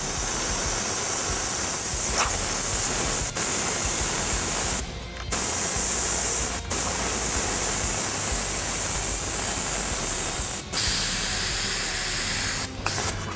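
Airbrush spraying paint for a twisted-flames design, a steady close hiss of air and paint with a few very brief pauses and cut-offs between passes.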